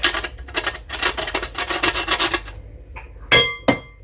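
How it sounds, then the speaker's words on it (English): A whole nutmeg is grated by hand for Ghanaian puff puff dough, giving a steady rhythmic rasping scrape of quick strokes that stops, followed by two sharp taps. "I've got the whole nutmeg, so I'm just going to add 1 teaspoon to it."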